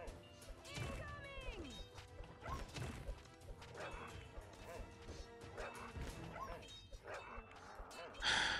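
Dogs bark and yip in the tower-defense game Kingdom Rush Origins, repeated sharp barks mixed with battle clashes and smashes, running under someone talking throughout.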